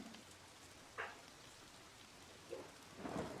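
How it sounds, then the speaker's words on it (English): Quiet, steady rain hiss in the video game Forces of Nature, a soft continuous wash with a few faint low rumbles rising toward the end, no voices. "Oh, it's raining in the game,"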